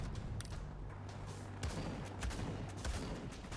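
Shotgun fire in the Fallout: The Frontier video game, a dense stretch of repeated sharp gunfire bursts over a steady low rumble, several close blasts at uneven intervals.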